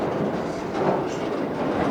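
A freight train rolls past on the old Conrail main line, a steady close rumble of wheels and cars with faint rhythmic clatter, no talk.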